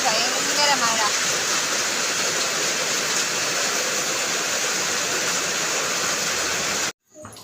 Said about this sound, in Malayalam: ഭയങ്കര മഴയാണ് കൂട്ടുകാരെ